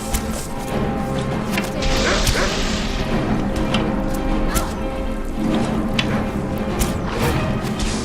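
A dog in the video game Skyrim barking and yelping as it is hit, with sharp impact cracks and scuffling in a busy combat scene, the yelps coming in short bursts.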